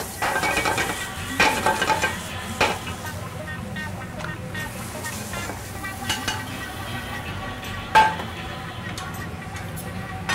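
Eggs go into chorizo frying in a pan, a steady close sizzle broken by a few clanks of a utensil against the pan and one sharp clink, with no clear talking over it.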